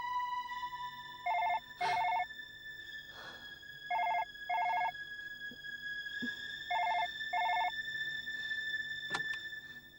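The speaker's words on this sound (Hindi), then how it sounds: "लेकिन यहाँ तो फोन पहली बार बजा है" A telephone rings in repeated paired electronic trills, loud and close, over a steady background tone with a few soft knocks between rings.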